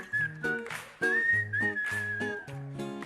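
A man whistles a lively melodic tune on a French TV singing show stage, the shifting pitched line carrying over a steady backing track of music throughout.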